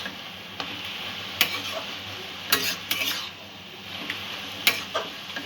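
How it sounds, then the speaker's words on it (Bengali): Momo filling of vegetables with sugar and soy sauce being stirred and mixed in a pan, with a soft sizzle under scattered clinks and scrapes of a utensil at an irregular pace. "সব উপকরণগুলো ভালো করে মিশিয়ে নেব"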